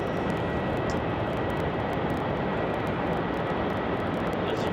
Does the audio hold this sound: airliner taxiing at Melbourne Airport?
yes